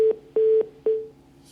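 A phone line that has dropped its connection gives three short, steady electronic beeps in an even rhythm, clear and close, then silence.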